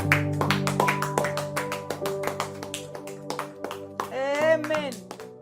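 A church congregation at a midnight prayer service claps in a steady, even rhythm, loud and close, while sustained singing tones run underneath.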